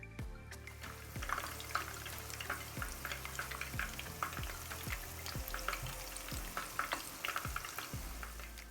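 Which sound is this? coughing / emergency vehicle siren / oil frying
oil frying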